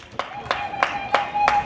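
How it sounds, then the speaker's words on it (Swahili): A small audience claps on request at a women's empowerment meeting, five or six separate crisp claps with gaps between them, fairly close, under a droning background. "piga makofi tafadhali"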